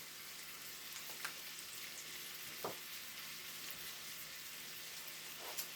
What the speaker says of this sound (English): we're just going to saute that until it's a nice golden brown